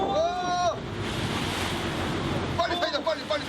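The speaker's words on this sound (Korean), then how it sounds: "출렁이는 파도 때문에 사다리를 오르다 추락하거나 골절상을 입는 경우도 많다는데요" Rough sea surf and wind wash steadily around a pilot boat during a transfer at sea, a broad continuous roar, with voices calling out briefly at the start and end.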